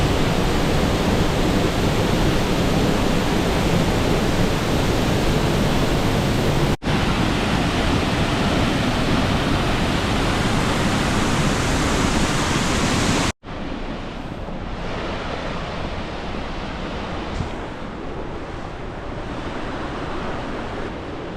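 Middle North Falls on Oregon's Trail of Ten Falls roars with a dense, constant rush of falling water, loud and steady, later heard from a slightly different spot with a softer, more muffled roar.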